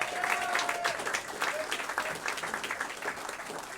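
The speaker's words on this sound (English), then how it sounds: "And please, Havertown, give it up for your native son, for Mark Lipsky." Audience at a comedy show applauding and cheering for a comedian, dense clapping that starts strong then tapers, with a few whoops and talk mixed in.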